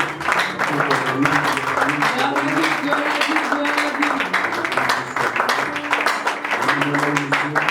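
A church congregation applauds the Lord with steady clapping, mixed with loud singing or chanting voices throughout.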